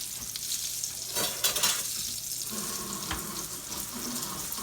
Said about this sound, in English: I'm cleaning up here, y'all, while y'all watching that.